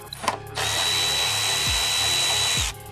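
A power driver spins out T25 screws from the heat shields on an Audi R8 during a race exhaust install, a single close, loud whirring run of about two seconds after a short click.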